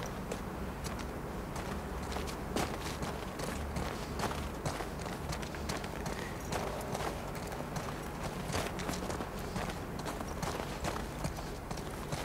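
Horse hooves clip-clop at a steady walking pace on open ground in The Last of Us Part II, a continuous close rhythm of hoof falls under faint game ambience.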